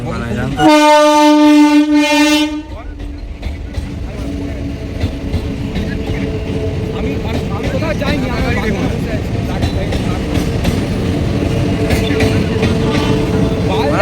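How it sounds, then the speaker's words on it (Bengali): A train on the Kolaghat rail bridge sounds a loud, sustained horn blast, then rolls past close by with a long, steady rumble and clatter of wheels and wagons. "এখন ট্রেনটা যাচ্ছে"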